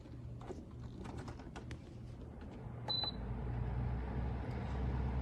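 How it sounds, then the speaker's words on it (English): A Vornado 630 mid-size whole-room air circulator fan runs on its low speed with a steady low hum, partly masked by scattered nearby clicks and handling knocks and one short electronic beep midway. "Let me do the low speed of this Vornado."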